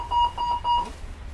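The call-for-aid button in a train's saloon wheelchair bay sounds an electronic alarm tone: three clear, evenly spaced beeps at a steady pitch, then quiet.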